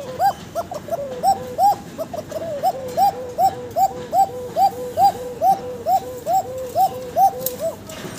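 Fancy pigeons, a pair of white Basiraj kaka birds, coo in a steady series of about fifteen regular, rounded calls, close and clear, with no talk.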